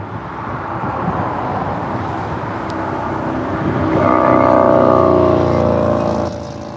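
Cars driving past near the LAX 24R runway, a steady broadband road rumble that swells louder as a vehicle passes close around the middle, then fades slightly at the end.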